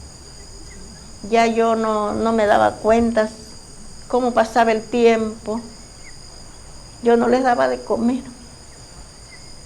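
Crickets in the countryside keep up a steady, high-pitched chirping drone throughout. They sit low in the background under a voice, which speaks in several bursts.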